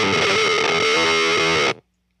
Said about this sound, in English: so insane is just like this baritone sound, like this octave down, the red insane setting